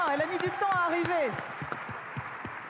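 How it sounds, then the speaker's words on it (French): Applause from an audience at an African young-entrepreneur prize event, steady clapping running throughout while a voice speaks over the first half, then fading a little but continuing. "peut l'applaudir bien fort"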